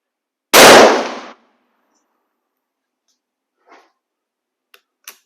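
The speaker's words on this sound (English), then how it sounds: "Every time I shoot this rifle" A single loud, sharp rifle report from a CZ 527 Mini Mauser, a sudden blast that decays over about a second, followed by near silence with a few faint clicks and taps.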